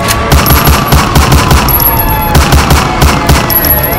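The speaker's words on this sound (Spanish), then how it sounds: "Se escucharon varios disparos" Rapid bursts of gunfire crackle loudly and continuously, overlapping shots in quick succession like automatic fire.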